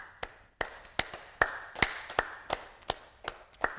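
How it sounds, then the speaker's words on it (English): Sharp hand claps ring out at a steady pace, about ten in a row, close and crisp in a quiet room during a mother-and-baby yoga session. "let's come back to some claps"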